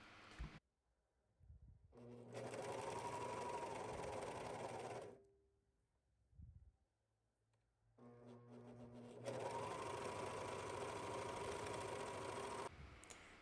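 A sewing machine stitches a gown seam from the armpit up to the middle of the sleeve opening, running in two long steady bursts with a short pause between them, close and alone.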